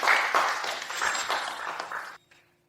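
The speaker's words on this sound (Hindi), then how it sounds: "कृपया उन्हें तालियों की गड़गड़ाहट से स्वागत करें" An audience welcomes a speaker with applause: a dense wash of clapping, fairly loud at first, that thins and cuts off abruptly near the end.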